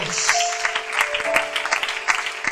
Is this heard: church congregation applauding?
yes